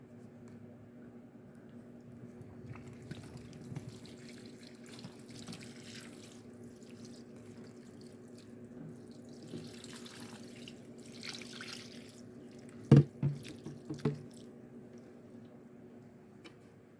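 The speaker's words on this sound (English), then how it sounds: "I'm going to go in here and refill this water" Water runs steadily from an indoor faucet into a watering container for houseplants, a continuous close stream, with a few brief clanks and knocks near the end as the container is handled.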